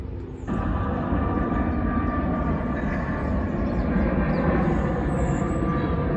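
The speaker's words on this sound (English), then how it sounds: "Yet another plane flies over, having taken off from Heathrow Airport." A jet airliner climbing out after takeoff from Heathrow passes overhead near the Thames at Staines, a loud, steady roaring rumble that swells in quickly and holds for several seconds, heard outdoors alone.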